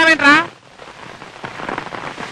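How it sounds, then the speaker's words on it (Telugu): Rain falls steadily on a roadside surface as a soft, even hiss, following a brief voice at the very start. "మామ వర్షం ఎలాగరా తడిచిపోతాం"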